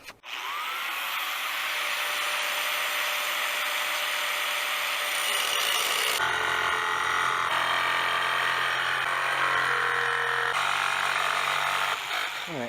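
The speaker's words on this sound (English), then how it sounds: "Let's go ahead and get started cutting this flare off." Power tool cutting the flared end off an exhaust pipe during an Infiniti FX35 resonator delete: a loud mechanical whine and grinding, rising in intensity partway through, then continuing as a harsh, steady cut with slight pitch shifts, close up and without speech.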